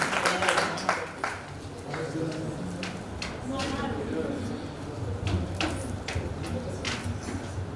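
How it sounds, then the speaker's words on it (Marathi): Applause from the audience at an Ahirani-language poetry gathering in Nashik: scattered, sharp claps that rise and fade over several seconds, heard under and between people talking. "टाळ्या होत्या जरा"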